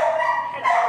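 A rescue dog flown in from Houston shelters gives a couple of quick close barks or yips, fairly loud and with no talk over them.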